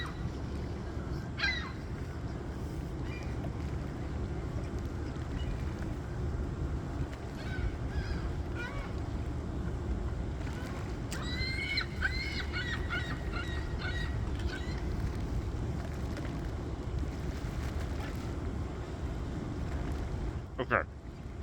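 Seagulls call outdoors near the water at a burger bar in Kingston, Ontario, with scattered squawks and a burst of rapid cries over steady wind and background rumble.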